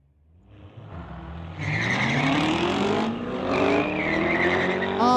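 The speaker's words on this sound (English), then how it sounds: "All sorts of tire spin for Tim Wong in the Lordco lane" Drag racing car spinning its tires hard at launch in a street legal event at a drag strip, a loud engine roar with rising tire squeal that swells and holds for several seconds.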